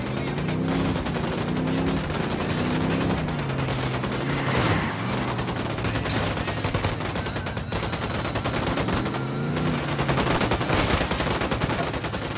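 Rapid automatic gunfire and bursts crackle nonstop in the tactical shooter Ghost Recon Wildlands, loud and dense, with overlapping shots filling the whole stretch.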